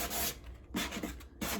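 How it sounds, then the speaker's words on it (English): Sanding block rubbing along the edges of a painted wooden piece to lightly distress it, three close raspy strokes separated by short pauses, no voices. "I'm just going to lightly distress the edges"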